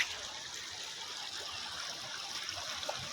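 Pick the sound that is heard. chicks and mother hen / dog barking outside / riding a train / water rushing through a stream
water rushing through a stream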